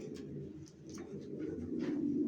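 Racing pigeons of long-distance racer stock coo in a steady, low, throaty murmur that swells slightly toward the end, close by and uninterrupted, with no talking.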